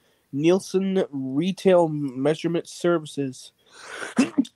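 A single short sneeze lands at the end, just after a clear run of speech, fairly close and moderately loud.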